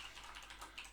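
Quiet, rapid typing on a computer keyboard, a steady run of soft key clicks close to the microphone with no talking.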